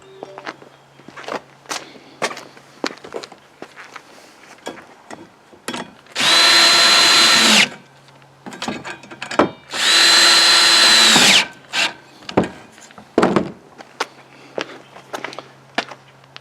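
A power drill tightens a support arm connection on a large 9-foot loop antenna, two loud sustained whirring bursts of about a second each amid clicks, taps and handling knocks, close by with no talking.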